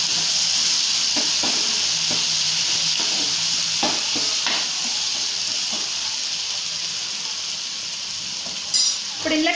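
Turmeric and other spices fry in oil in a pan for a tomato egg curry. Under a loud, constant sizzle, a spatula stirs and scrapes in scattered taps, with a brief clatter near the end and no talking.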